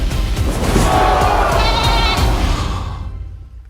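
A goat bleats in a comedy adventure film, a loud, wavering cry that carries through nearly four seconds before fading into silence.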